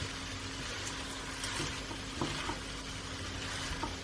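Shredded cabbage for an Indian cabbage and chana dal dish frying in a crowded pot while being stirred, a soft steady sizzle with occasional scraping clicks, close and alone without speech.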